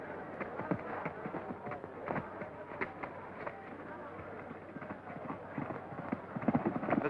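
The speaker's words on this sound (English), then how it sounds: "his famous horse Champion, one of the world's finest trained animals" Trained show horse's hooves clip-clopping in a rhythmic run of clops throughout a 1936 western stage performance, heard over a busy, noisy background with faint crowd murmur.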